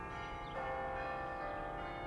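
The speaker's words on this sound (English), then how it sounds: "Within hours, church bells were ringing across England" Church bells ring out in a sustained, resonant peal, their overlapping tones humming steadily and growing slightly fuller partway through, heard alone without voices.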